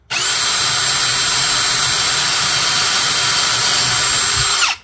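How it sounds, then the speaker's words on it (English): A power drill bores a small pilot hole in a steady, loud, high-pitched whine lasting several seconds, starting and stopping abruptly, with no talk. "So I'm going to take your drill"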